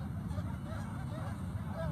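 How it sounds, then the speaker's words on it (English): Geese and other birds honk and call at Creamer's Field in Fairbanks, Alaska, a steady overlapping chorus of fairly faint calls heard from a distance, with no voices. "hear the birds?"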